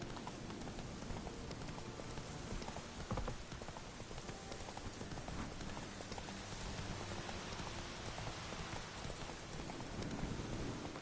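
Roach, a horse in The Witcher 3, gallops in a steady, continuous clatter of hooves over a dense, hiss-like wash resembling rain, with no talk.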